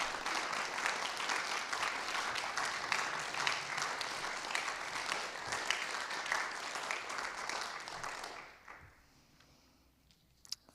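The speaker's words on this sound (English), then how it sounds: "Can we have a more enthusiastic round of applause for these people?" An audience applauds in a sustained, dense round of clapping at a community talk on women and LGBTQ+ members, steady and loud for about eight seconds before fading out to near quiet with a few stray claps.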